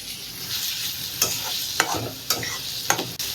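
Onion frying in hot oil for a tempering, a steady sizzle broken by four or five sharp scraping stirs of a spoon against the pan, close and fairly loud.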